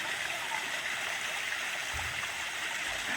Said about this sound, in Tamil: இங்கே வர தண்ணி தான் பார்த்தீங்கன்னாக்கா கீழே இந்த கொடைக்கானல் லேக்குக்கு போகுது அப்படியே அந்த சவுண்டை கேட்டு பாருங்களேன்